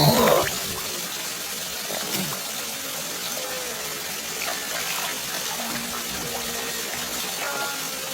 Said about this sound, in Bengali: এটি হচ্ছে সংগ্রামপুঞ্জ ঝর্ণা